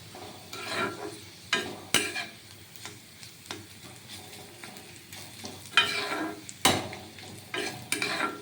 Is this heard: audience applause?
no